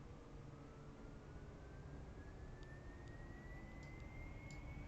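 Left engine of a Saab 340 starting in a flight simulator: a faint whine slowly rises in pitch over a steady background roar.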